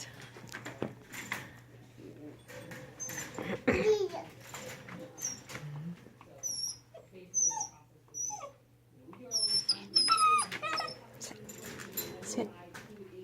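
Puppies whimper and let out high yips, scattered through the scene while people talk and a child babbles close by, over a low steady hum.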